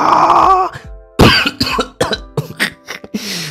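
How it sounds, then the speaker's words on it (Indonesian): A dog coughs in several short, harsh bursts with hacking, throat-clearing rasps between them, loud and close with no talking. "Anjing batuk."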